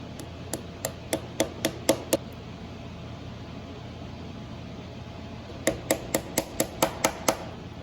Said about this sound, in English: I actually like the back of that scratch awl the best. Getting that, just pound it in there.